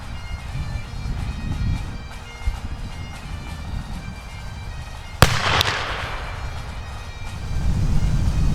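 A single loud gunshot from a Martini-Henry cavalry carbine loaded with 72.5 grains of 2F black powder, a sharp crack midway followed by a short echoing tail over steady outdoor background noise.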